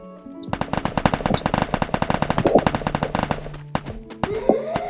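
Rapid automatic gunfire in the mobile battle game Garena Free Fire, a dense burst of close, loud shots running for several seconds, then a few scattered single shots near the end.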